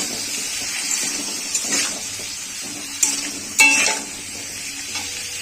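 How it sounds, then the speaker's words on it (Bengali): Diced potatoes frying in a pan with salt and turmeric for a lentil-fritter curry, giving a steady close sizzle broken by a few sharp clinks of a stirring utensil, with no voices. "আর হলুদ দিয়ে আলুগুলোকে আমি লাল লাল করে ভেজে নেব।"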